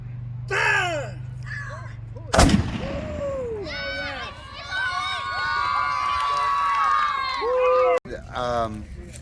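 A cannon fires once with a sharp, loud blast at a Battle of Shiloh 160th anniversary reenactment on a school day, with a crowd of children shouting and cheering around it and people talking nearby.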